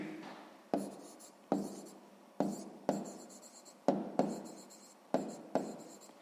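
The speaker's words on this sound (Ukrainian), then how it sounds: "Записуємо тоді 11 цілих, 1 дев'ята відсотка" Pen or chalk writing during a sixth-grade maths exercise on percentages, heard as a series of about eight close scratchy strokes, each with a sharp start and fading tail, in a steady rhythm with no talking.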